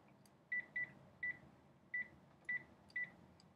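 A phone keypad is dialed with six short, clipped touch-tone beeps in an uneven rhythm, quiet and close over faint background hiss.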